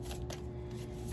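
Tarot cards shuffled by hand during a reading, giving a steady soft riffling and rustling with a few brighter flicks, close up and alone without talk.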